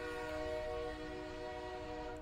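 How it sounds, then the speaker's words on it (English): A departing train sounds a sustained, steady horn or whistle tone, heard faintly at a distance as it pulls away from a station, with no voices. "Train started leaving the last station after he left."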